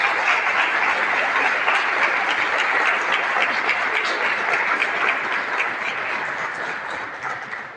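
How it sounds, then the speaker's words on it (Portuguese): Congregation applauding loudly during a church anniversary service, a thick, sustained roar of clapping that holds steady and eases slightly toward the end. "Você pode aplaudir ao Senhor, pode aplaudir ao Senhor."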